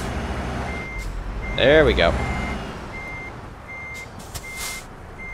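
A truck in Euro Truck Simulator 2 sounds steady, evenly spaced reversing beeps over an engine idle as it backs up. A brief voice is heard, and a louder burst of sound rises early in the clip.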